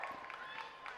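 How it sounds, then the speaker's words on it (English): A crowd at a school rowing regatta cheers and claps for the Armidale School crew, a brief, faint, distant burst of mingled voices and applause with no clear words. "Good cheer from Armidale there."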